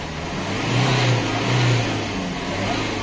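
A Maruti Ciaz diesel car fitted with a loud aftermarket exhaust revs, two deep swelling bursts of engine roar rising over a steady rumbling idle, heard up close without talk.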